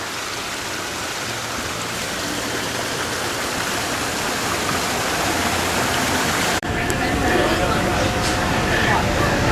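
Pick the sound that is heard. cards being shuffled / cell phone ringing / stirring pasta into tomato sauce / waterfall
waterfall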